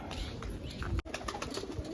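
Soft pigeon coos murmur nearby in a short burst, low and gentle, with a brief rustle partway through and no talking.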